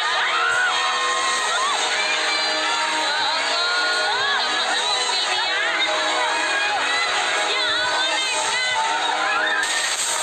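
Crowd of residents in Indonesia shouting and whooping at a flood, loud overlapping voices and cries filling the whole stretch, with water and bangs buried underneath.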